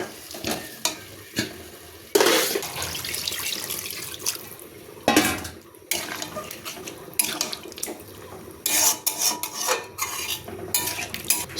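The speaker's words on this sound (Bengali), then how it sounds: "দিয়ে জল ঢেলে দেবো।" Water poured into a pot of potato biryani cooking with fried onions, a gushing splash in a few bursts between softer stirring and sizzling sounds at low level.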